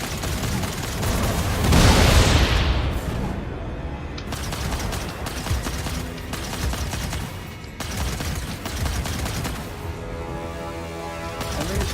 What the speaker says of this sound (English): Fire missile. Missile launch.